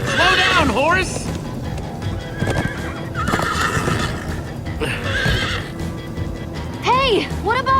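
Minecraft: Story Mode horse neighs several times over galloping hoofbeats and game noise, with voices talking in between.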